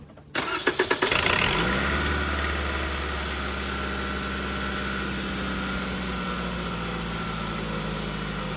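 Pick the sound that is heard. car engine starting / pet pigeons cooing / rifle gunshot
car engine starting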